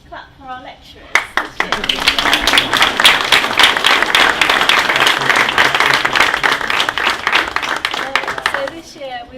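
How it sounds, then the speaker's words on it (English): An audience at a university design exhibition presentation evening bursts into sustained applause for the lecturers, dense and loud for several seconds. Brief talk can be heard at the start and end. "Have another little clap for our lecturers."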